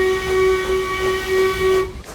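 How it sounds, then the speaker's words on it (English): A loud, sustained steam whistle blares steadily with a hissing edge for about two seconds, then cuts off abruptly. "rudely awakened by a loud whistle"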